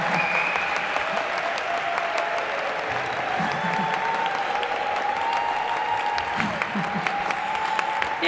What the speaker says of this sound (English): I hope, yes, you can applaud for yourself